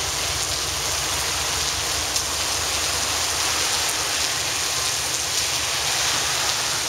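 Steady heavy rain falls near a railway line where a Union Pacific GP60 locomotive works, a dense, even hiss filling the scene close by with no break and no voices.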